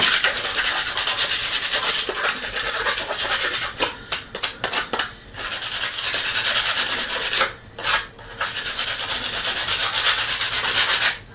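A paintbrush is lightly roughed up with sandpaper, giving close, loud, continuous scratchy rubbing strokes that pause briefly a few times before resuming.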